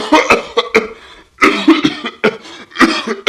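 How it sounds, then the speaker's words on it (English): A run of harsh, hacking coughs in three bursts, loud and close, with short pauses between the fits. "Immediately I start coughing."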